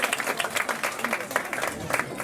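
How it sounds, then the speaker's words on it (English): An audience claps steadily for a couple of seconds, a moderately close, even patter of applause with a voice faintly underneath. "Give them both a round of applause as they make their way back."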